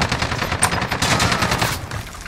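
Rapid automatic gunfire in a Call of Duty Warzone match: dense, loud bursts of shots rattle continuously for a couple of seconds, easing toward the end.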